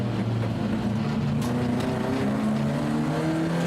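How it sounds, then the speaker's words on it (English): A BMW E30 race car's engine drones loudly onboard during a race, a steady high-revving roar with shifting pitch and no voices. "I'm back on board with Benjamin Doak, car 74"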